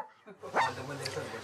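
A small dog gives a quick yip-like bark, close by indoors, with people talking around it.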